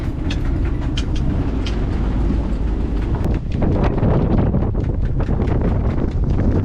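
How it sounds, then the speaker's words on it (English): Strong wind roars continuously into the microphone while sailing in Greece, a dense buffeting rumble with gusty surges throughout and no voices. "It's next level windy out here today."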